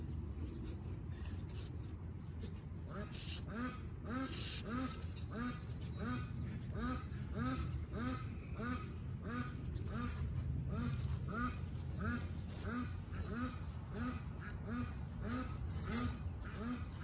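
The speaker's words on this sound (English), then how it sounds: "Crazy ducks." Ducks quack repeatedly in a steady, rhythmic chorus, close and loud, with a bit of background noise.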